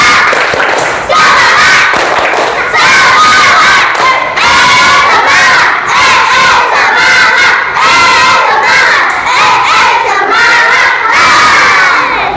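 A third-grade elementary class in Indonesia claps and shouts a cheer in unison: loud, close, rhythmic bursts of children's voices and clapping that run steadily throughout.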